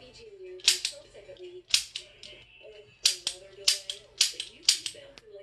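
A toy-like gun resembling a Nerf blaster fires about seven sharp, snappy pops in an uneven rhythm, close and fairly loud, while a voice talks in the background between shots.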